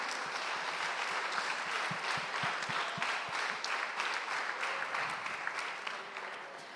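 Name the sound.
applause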